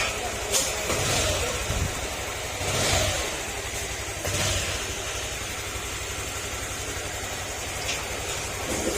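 A motorcycle engine needing an overhaul, noisy and low on power, runs steadily at close range, rumbling and idling with a few brief revs, no talking.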